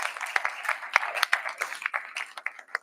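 An audience claps for a brass band at a college performance, a thin scattering of distinct hand claps with uneven rhythm, close and fairly loud, fading in and out rather than building into a full ovation.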